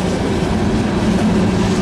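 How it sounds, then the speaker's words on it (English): A CSX Q491 manifest freight train rolls past close by on the Monroe Sub near Raleigh Street, a loud, steady roar of wheels and cars with no talking. "Now this train, obviously you don't generally see Q491 coming off the Monroe Sub."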